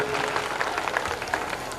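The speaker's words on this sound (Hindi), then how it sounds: "तो एक बार इनके लिए जोरदार तालियां होनी चाहिए" Audience at a school annual function applauds, a short, moderately loud burst of many hands clapping in a steady dense patter.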